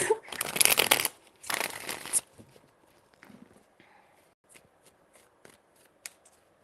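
Tarot cards are riffled and shuffled in two brisk bursts close by, followed by quieter taps and faint handling sounds.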